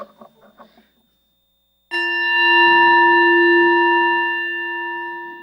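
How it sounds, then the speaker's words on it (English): Brief faint speech gives way to a single bright chime struck once, ringing out loud and clear with a pure sustained tone that slowly decays over several seconds. "Where did the chime go? Oh, there it is."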